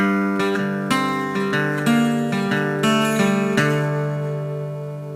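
Acoustic guitar chords for a song played alone at close range, a sequence of about seven strummed chords in steady rhythm, each ringing into the next and fading at the end.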